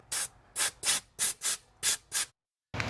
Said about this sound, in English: I'm just gonna get an air hose and blow out all the coolant and stuff